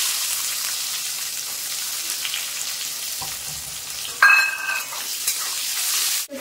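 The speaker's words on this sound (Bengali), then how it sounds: "এখন দিয়ে দেবো পেঁয়াজ কুচি।" Chopped onion added to hot oil with whole spices (cardamom, nutmeg, mace, clove) for a Bengali mutton curry, giving a continuous close sizzle with a sharp burst of crackling midway and a few faint utensil clicks.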